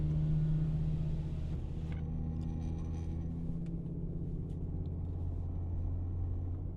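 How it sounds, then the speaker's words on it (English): A BMW M5 with a V10 engine drives along, its engine and road noise forming a steady low droning rumble inside the car, easing slightly in intensity, with no one speaking. "right now the engine is running great"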